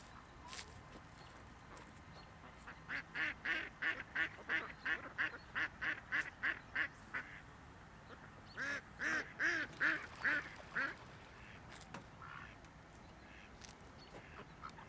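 Ducks quacking near a lakeside fishing spot, two long runs of rapid, rhythmic loud quacks separated by a short pause, close by and clear over a quiet outdoor background.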